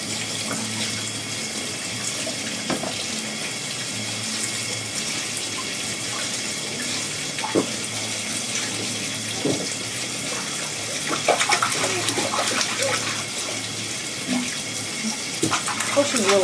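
Water runs steadily from a tap into a bath, a continuous splashing hiss with occasional sloshes and bumps, fairly close.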